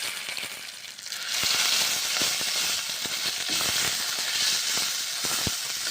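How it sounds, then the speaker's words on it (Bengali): Boiled Maggi noodles hit a hot wok (kadai) and break into a loud, sustained sizzle after a quieter start, with light stirring clicks scattered through the hiss. "ম্যাগি সেদ্ধ কড়াইয়ের মধ্যে ছেড়ে দিলাম।"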